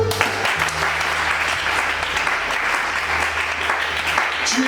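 Sustained applause from a congregation during a church service, a dense steady clatter of many hands filling the room from start to finish, with faint low tones underneath.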